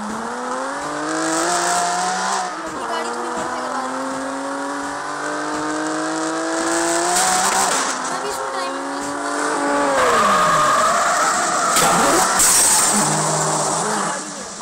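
A car engine in the CarX Street street racing game revs and shifts through rising gears, with tire squeal and whooshing passes, while someone talks over the driving.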